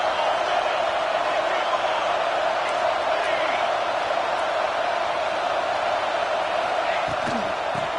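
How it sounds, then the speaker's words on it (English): A steady, dense roar from a stadium crowd in a college football video game fills the scene, a loud continuous din that barely changes, with faint scattered shouts inside it. "This crowd is trying to inspire this defense to make a big red zone stop."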